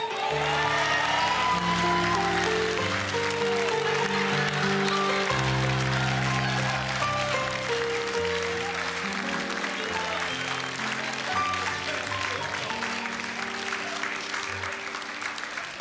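A studio audience at a televised sketch comedy show applauds continuously over upbeat band music during a wedding sketch, with sustained, dense clapping that stays loud and even throughout.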